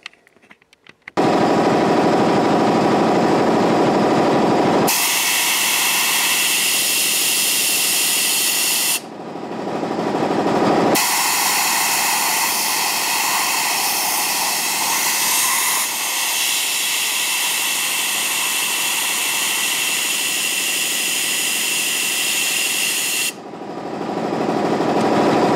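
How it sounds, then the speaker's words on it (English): Compressed air hose blasting air in a workshop while working on a Carter WCFB carburetor: loud, steady hissing bursts, one cut off briefly near the start and another short pause midway, then continuous rushing air. "sorry for all the noise and stuff with the air hose"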